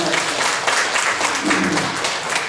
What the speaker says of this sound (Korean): 수고하신 분들이 우리 한번 박수 한번